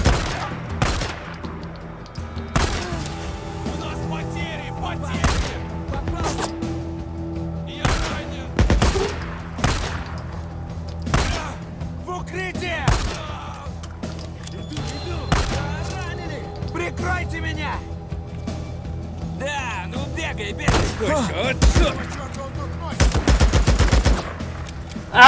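Pistol gunfire in the video game Days Gone: repeated sharp, loud shots fired in irregular bursts and single cracks over a long stretch, with someone talking in between.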